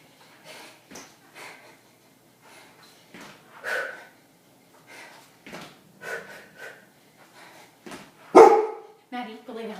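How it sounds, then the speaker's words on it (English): A dog barks a few times in the background during a no-equipment HIIT workout at home, short sharp yaps between the exerciser's breathing and spoken cues. "The dog's cheering me on."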